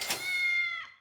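A cat meowing from a kitty carrier in a video game, a single drawn-out, clear meow lasting about a second with a bright harmonic tone that rises and then falls away, close and alone with no talk.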